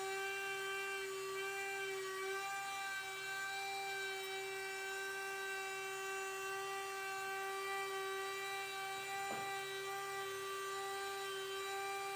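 A power sander works over wooden table legs before assembly, making a steady, high, whining hum with a brief dip partway through, fairly quiet and with no talk.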